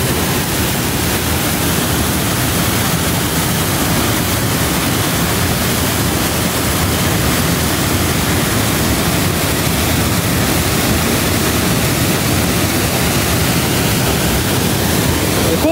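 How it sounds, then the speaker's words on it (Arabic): A weak waterfall flows in a dry outdoor setting, making a steady, dense rush of white water that fills the whole stretch without a pause. The sound is loud and close, with no clear voices over it. "هذه ما هي من الامطار، هذه شلال"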